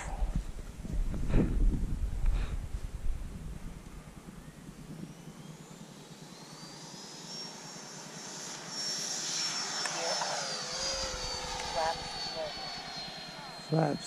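A Freewing F-22 Raptor RC jet taking off, its electric ducted-fan whine rising to a steady high pitch over about fourteen seconds. Wind noise and handling sounds come first, and a voice speaks over part of it.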